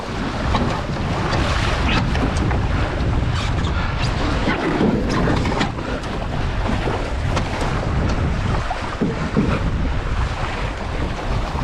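Wind noise from sailing an RS600 dinghy on open water during short course training: constant loud buffeting and rushing air against the microphone, mixed with splashing water and hull noise, with no talk.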